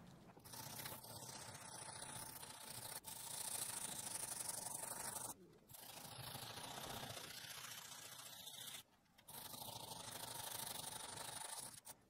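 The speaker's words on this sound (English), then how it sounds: "I'll start with a wire brush just to get most of the loose stuff off" Steady abrasive scrubbing of a wire brush over rusty rear brake discs on a Renault Scenic 3, continuous and close, broken by two short pauses.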